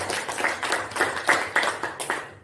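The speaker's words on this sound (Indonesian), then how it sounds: "Sekali lagi aplaus, tepuk tangan buat narasumber kita yang luar biasa." An audience at a school training session claps for a guest speaker, giving roughly a dozen close, rhythmic rounds of clapping that die away at the end.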